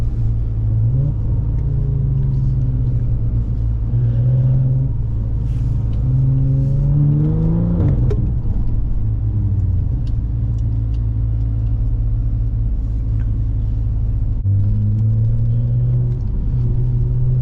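BMW M340i fitted with a big single turbo, driven through snowy New York City streets: loud, steady exhaust drone with rising revs and a sharp burst near the middle, continuous throughout with no talking.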